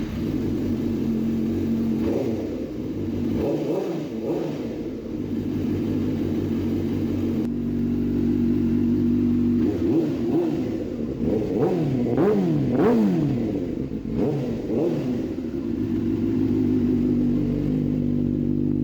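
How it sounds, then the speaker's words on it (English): A warmed-up 2005 Suzuki GSX-R motorcycle engine idles loudly nearby, then is given a series of quick throttle revs whose pitch climbs and falls several times. "2005 Suzuki GSXR startup. I've already let the engine warm up, so I'm gonna give you guys a couple revs"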